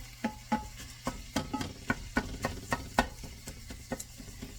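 A utensil breaks up meat in a pot as it cooks. The scrapes and taps come close and fairly quiet, in an irregular rhythm of about a dozen strokes, over a faint sizzle.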